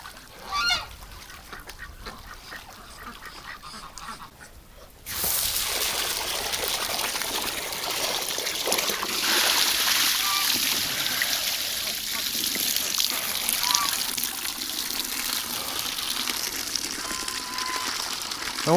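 Ducks splash and dabble in fresh water outdoors in winter, a sudden burst of loud, continuous splashing and dripping mixed with honking calls that carries on steadily.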